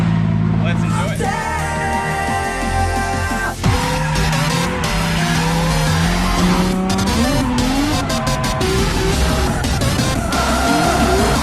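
Race cars running early-morning practice laps at Taliem Bend in an SA series round: loud, close engines rising and falling through gear changes, tires squealing and skidding throughout, with talk over the top.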